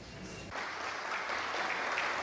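Applause breaks out at a ceremony for a campaign by the Catholic Church and Public Charity donating oxygen cylinders to hospitals in Piura, a steady, moderately distant clapping that swells after a quiet start.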